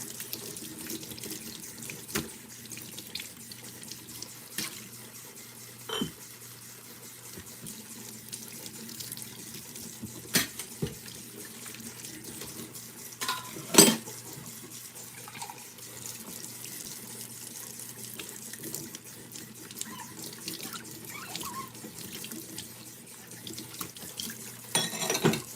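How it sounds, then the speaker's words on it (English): Tap water runs steadily into a sink while dishes are washed, a soft continuous hiss with occasional clinks and splashes, fairly quiet and close, with no talking. "Almost done with the dishes."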